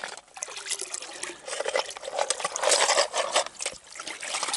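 Water trickles and splashes over snails as they are rinsed, a close, uneven patter of dribbling liquid with brief stirring swishes.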